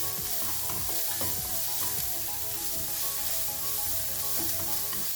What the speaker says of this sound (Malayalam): ഇതിലേക്ക് ഇഞ്ചി ഗാർലിക് പേസ്റ്റ് ഇട്ട് കൊടുക്കാം. നന്നായി ഒന്ന് വഴറ്റിയെടുക്കാം.